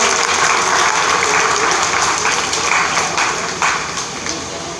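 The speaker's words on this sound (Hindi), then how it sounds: "जोरदार तालियां बजाते करो यार।" A large audience breaks into loud, dense applause at a stage event honoring an NGO's service work, a steady roar of clapping that holds throughout and eases slightly near the end.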